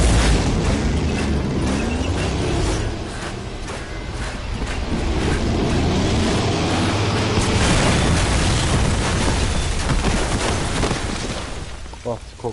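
Video game explosions: dense, rumbling booms and bursts piling up over a continuous roar, with rattling debris and sharper pops toward the end, and voices talking over the din.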